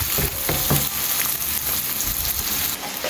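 Potatoes fry in a pan for a prawn and potato chilli fry, giving a loud, continuous close sizzle with scattered crackles and occasional stirring clatter.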